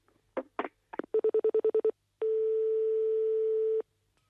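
Telephone being dialed on a French call, starting with a few soft clicks, then a quick run of about eight clear dialing tones, followed by one long steady tone lasting over a second, close and alone with no voices.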